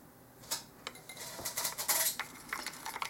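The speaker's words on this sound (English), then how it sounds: "that's the cat getting into something." A cat plays with a piece of builder's foam in the background, making scattered light clicks, taps and rustles that come in irregular bursts, fairly faint with no talk over them.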